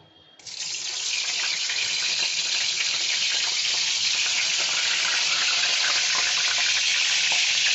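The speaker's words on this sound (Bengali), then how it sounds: "এবার কড়াইতে তেল দিয়ে দিয়েছি সব কটা ভেজে নেব" A loud, steady sizzle of salted brinjal frying in hot oil in a wok starts abruptly and holds at an even, close hiss throughout, with no talking.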